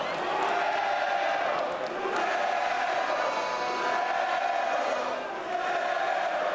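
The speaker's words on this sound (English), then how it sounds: "I was just letting Riddle take in the adulation of the crowd there" Wrestling crowd at an MLW Fusion event roaring steadily for Matt Riddle, a dense, sustained wash of cheering and shouting that rises and dips slightly without a break.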